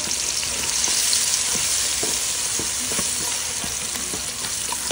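Garlic and onion sizzle steadily in hot oil for an adobo of chicken feet, a dense continuous frying hiss with occasional stirring clicks, close and loud throughout, no talking.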